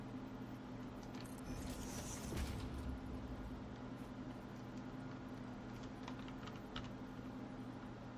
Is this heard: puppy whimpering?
no